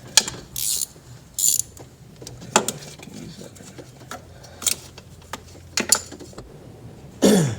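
Wrench ratcheting on a bolt of a 7.3 Powerstroke engine, tucked under a piece of the engine: a few short metallic clicks and clanks in separate bursts, close by, with quiet gaps between them.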